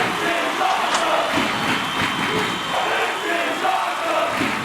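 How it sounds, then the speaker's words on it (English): A wrestling arena crowd at an Extreme Rules ladder championship match roars in a steady, loud wash of cheering and yelling, with rising swells of shouts over the continuous noise. "You can hear the crowd."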